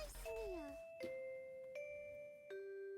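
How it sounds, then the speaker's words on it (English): In the video game Nikke, a doorbell sounds a sequence of clear sustained chime tones, each note struck and ringing on, over a soft background hum. "Ding dong."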